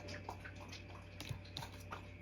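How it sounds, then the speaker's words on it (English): A dog laps water from a bowl indoors, a quick series of soft wet splashes and drips at close range, fairly faint over a steady background hum. "Sorry, my dog's drinking water."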